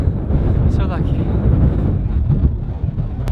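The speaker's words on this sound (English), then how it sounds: "Hiding from the wind. It's so windy." Strong wind buffets the microphone at an Icelandic hot spring in freezing weather, a steady loud roaring rush with no letup throughout.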